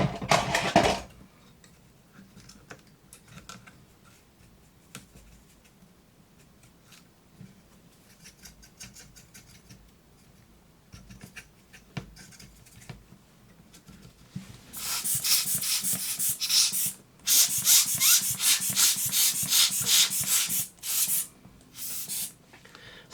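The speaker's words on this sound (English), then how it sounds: "we can get in there with a little mini paintbrush and clean out any dust" A small mini paintbrush sweeps dust out of an opened laptop, giving faint scratchy brushing at first, then louder bursts of dry bristle rubbing in quick strokes with short pauses, close up and with no one talking.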